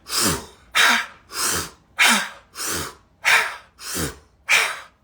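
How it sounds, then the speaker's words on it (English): Rapid forced breathing of the Wim Hof method: eight strong, evenly spaced breath cycles, each a fast hissing inhale into a blown-out exhale, close and loud with no talking. "That's Wim Hof breathing."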